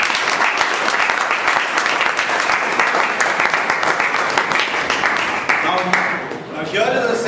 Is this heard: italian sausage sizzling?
no